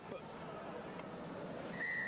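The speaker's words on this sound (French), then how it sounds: "que l'arbitre a sifflé." A referee's whistle at a 1998 Romania versus Georgia rugby World Cup qualifier gives one short, thin blast near the end, faint over a dull background of crowd and broadcast noise.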